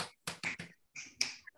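Several quick, crisp hand claps ring out close by in an uneven rhythm, with one soft snap near the end. They come from people in a creativity workshop.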